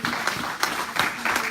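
A church congregation at a sermon claps and cheers together, a dense, steady wash of applause with rhythmic surges, fairly loud and without talk.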